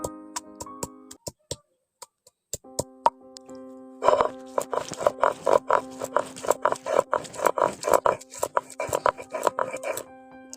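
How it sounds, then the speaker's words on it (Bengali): Ginger and garlic are ground together into a paste for a Bengali pointed gourd dish, with scattered knocks first and then rhythmic scraping and pounding strokes. A steady tone hums in the background. "এবার আমি আদা রসুন নিয়েছি আদা রসুনটা একসঙ্গে বেটে নেব"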